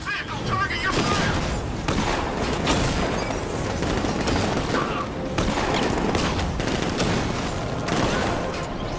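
Batman Arkham Knight game: militia troops fire at the Batmobile in a dense, continuous barrage of automatic gunfire with heavy impacts, loud throughout, with voices talking over it.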